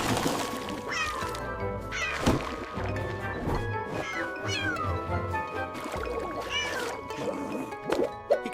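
A ginger cat named Ginger meows and yowls repeatedly in protest while being bathed in warm, bubbly water with cat shampoo, drawn-out complaining cries rising and falling over splashing and bumps, close and fairly loud.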